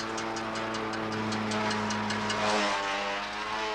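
A heavy Ford tractor engine drones steadily at full throttle, a constant loud hum with a faint rapid ticking on top.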